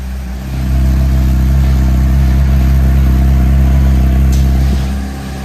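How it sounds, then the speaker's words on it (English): An old, long-unused motorcycle idling after being started, a loud, steady low-pitched engine drone with a fine clatter, holding evenly for several seconds before fading out. "this bike does have oil in it, so I'm gonna let it run for a few seconds here"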